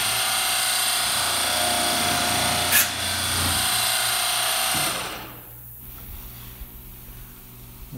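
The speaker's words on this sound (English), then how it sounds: "we're going to use the foot pedal operation and do some sample drilling" A Ritter 23-spindle line boring machine, foot-pedal operated, whines loudly at a steady pitch as it bores into wood, then winds down and stops, leaving a quiet room.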